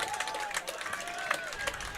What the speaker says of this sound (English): Kind of a sarcastic cheer by the Rapids fans that they actually stopped the Wildcats behind the line of scrimmage.